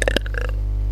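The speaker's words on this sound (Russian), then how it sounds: "Ой, рыгнул." A boy's short, close burp, one quick guttural burst at the start that drops away into a low steady hum.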